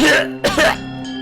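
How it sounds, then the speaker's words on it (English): A short, harsh cough and throat-clearing burst from a video game, close and loud, followed by a brief wheeze, with no speech. "there's an intense bout of coughing and vomiting"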